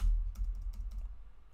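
Computer keyboard typing, a quick run of faint, close key clicks in irregular rhythm over a low room hum.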